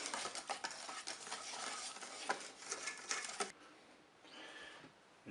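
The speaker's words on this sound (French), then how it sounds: "On va mélanger jusqu'à l'obtention d'une pâte lisse." A spoon stirs cherry cake batter in a bowl until smooth, making soft, wet, rhythmic scraping and tapping strokes nearby, then quieting to a few faint clinks.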